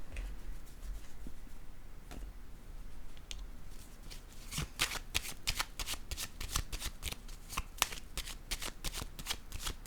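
A tarot card laid down on a table during a reading, with soft papery handling and a series of crisp little taps and flicks that grow busier in the second half, close and fairly quiet.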